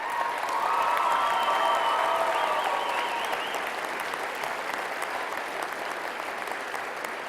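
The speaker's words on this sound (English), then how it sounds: "Give them all a round of applause." Sustained audience applause at a regional opening ceremony, a large crowd clapping steadily with a few cheers and whistles early on, holding strong before easing slightly.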